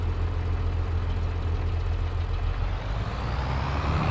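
A tractor engine idles steadily in Farming Simulator 22, a continuous low rumble held at an even level throughout with no one speaking.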